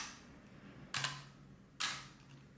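A Praktica BX20 camera's vertical-run focal plane shutter fires twice, each release a crisp mechanical snap with a short whirring tail, evenly spaced about a second apart in a quiet room.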